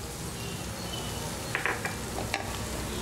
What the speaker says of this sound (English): Mix it and fry this for 1 minute